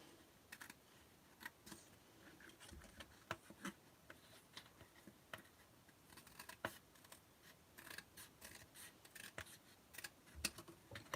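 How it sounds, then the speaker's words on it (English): Scissors snipping along card while making a Parisian-style favour box, a scattered series of quiet close cuts and small crinkles at an uneven pace, without speech. "I'm just going to cut along there so it's back the right length again."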